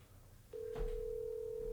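Outgoing telephone call with a single steady ring tone that starts abruptly and holds, heard clearly over a faint low background hum without any talk.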